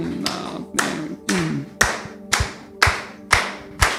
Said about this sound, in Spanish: las palmas dicen así